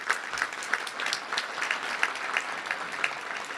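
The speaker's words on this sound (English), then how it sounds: "Let's give a round of applause to them." Steady applause from a luncheon crowd at a Little Rock touchdown club meeting, many hands clapping evenly throughout at moderate loudness without voices.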